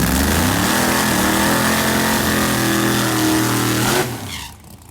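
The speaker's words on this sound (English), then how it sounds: "do a little burnout right at the end." A blown Hemi G-body drag car roars loudly at close range in a burnout at the end of a pass, a dense engine blare with shifting tones that cuts off and fades in the final second.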